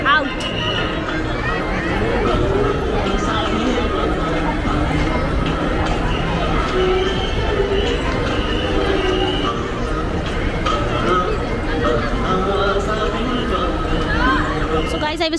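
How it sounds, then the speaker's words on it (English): A dense crowd of people at the Lalbagh flower show in Bangalore, a steady close babble of many voices and shuffling movement throughout, with a speaker talking over it. "So let's go out of this crowd. There are a lot of people waiting"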